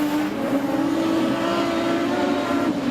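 Production sedan race cars at Maryborough Speedway, engines droning loud and steady as the pack races through the turns, a sustained roar without talking.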